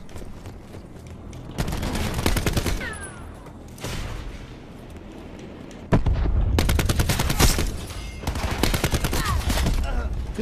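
Rapid automatic gunfire in Call of Duty Black Ops 4 multiplayer, loud bursts of repeated shots, with a dense volley near the start and heavier sustained firing in the second half.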